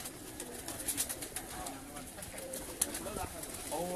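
Breeder pigeons coo in a shaded rooftop loft, soft repeated low coos close by, with quiet talk and light rustling in the background.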